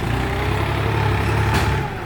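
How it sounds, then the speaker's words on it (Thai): A tractor works in a tight, confined space at a dump site, its heavy diesel engine running steadily and loudly throughout with a low rumbling drone. "เดี๋ยวมาดูรถไถทำงานพื้นที่แคบ"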